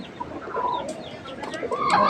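Pigeons and pigeon chicks calling close by in a busy coop, short soft coos overlapping against a low background murmur.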